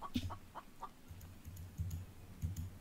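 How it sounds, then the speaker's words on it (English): A chicken in the survival game The Infected clucks in a few short, quiet bursts, joined by soft clicking keyboard taps and low rumbling game ambience. "I hear you, chicken."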